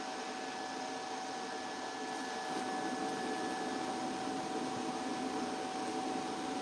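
A Hotheads 2.0 welding fume extractor runs with a steady, even fan hum and airy whir, fairly faint and unchanging throughout, with no other sounds.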